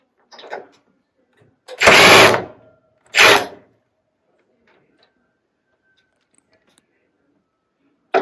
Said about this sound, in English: now go ahead and remove these 3 screws which holds the oven top